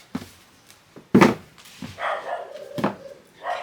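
A pet dog indoors gives a few sharp, close barks spaced irregularly over a few seconds, with a short whine-like sound between them and no talk.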